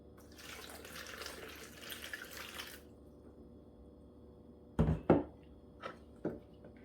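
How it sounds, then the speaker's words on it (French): Water poured onto yeast for beignet dough, a steady close trickle from about half a second to three seconds, followed later by a few loud clunks and splashes. "je commence par mettre la levure. Ensuite, je vais rajouter l'eau."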